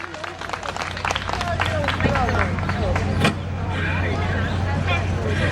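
An audience at a 2019 Jeju policy fair applauds to welcome a student presentation, producing dense, steady clapping mixed with crowd murmur and room noise for the whole stretch.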